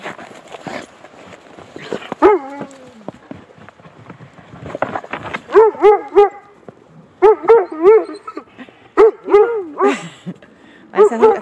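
A white dog barks in bursts of short, rising yips and whines, close and fairly loud, with the calls clustering into rapid runs toward the end and people's voices heard faintly at the start.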